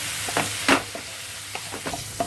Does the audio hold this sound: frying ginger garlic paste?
yes